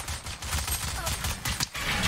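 Rapid bursts of gunfire from a Valorant match, dense overlapping shots through the whole stretch with a voice briefly talking underneath.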